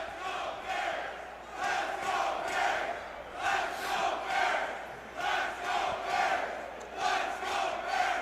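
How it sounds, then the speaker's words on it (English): A loud stadium crowd roaring and chanting before a Chicago Bears game, surging in waves of massed voices at a distance, steady and dense with no single speaker standing out. "the crowd is so loud here"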